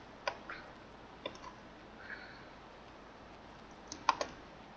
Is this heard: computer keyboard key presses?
yes